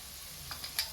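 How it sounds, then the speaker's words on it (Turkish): Bones, onions and tomato paste fry softly in a pan for a sauce, with a faint steady sizzle broken by a few light clicks of stirring near the end. "Sosu için bütün malzemelerimizi kavuruyoruz efendim kemiklerinizi, soğanlarınızı, salçanızla birlikte"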